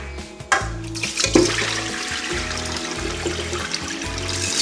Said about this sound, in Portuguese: Escorrer bem essa água